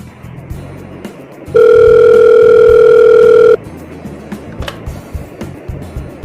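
A loud, steady electronic phone tone sounds for about two seconds, standing out against quieter background noise before and after.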